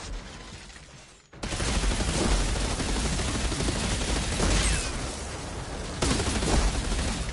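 Dual pistols fire rapidly at enemies in the video game Outriders, a dense, continuous stream of shots that starts abruptly after a quieter opening and keeps going loud and close.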